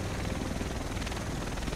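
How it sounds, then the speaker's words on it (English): Helicopter in The Division video game, a continuous rotor thrum and turbine whine filling the whole moment at steady loudness, no voices over it. "The rest of us should be in this chopper."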